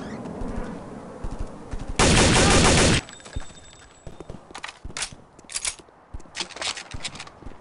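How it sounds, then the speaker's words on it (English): Machine gun fire in the video game Counter-Strike: Condition Zero rattles in a dense, loud one-second burst, followed by scattered sharper shots and clattering game effects. "That machine gun can be really terrifying."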